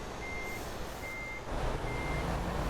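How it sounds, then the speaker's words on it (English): A truck's reversing beeper sounds a few evenly spaced tones over a steady engine hum while backing a trailer into a depot in Southampton in Euro Truck Simulator 2. "So again, reverse up with the trailer."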